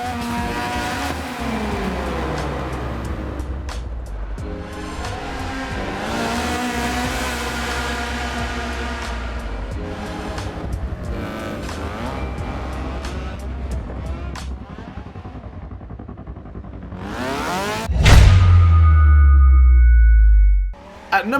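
A Mazda RX7 drifting in the racing game Forza Motorsport 7: a loud, buzzy rotary engine holds high revs and rises and falls, then a harsh tire squeal takes over near the end, with nothing else heard.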